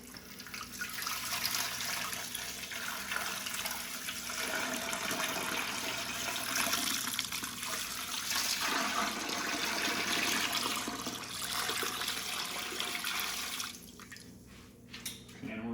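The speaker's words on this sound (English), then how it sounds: "Pour the rest of our brine mix in there." Brine mix poured over a turkey in a container: a steady, full rush of liquid for about fourteen seconds, then it thins out and trickles.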